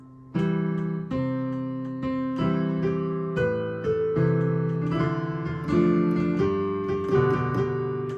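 Piano notes play the closing melody of a song phrase, a clear sequence of struck notes over sustained chords, close and unaccompanied.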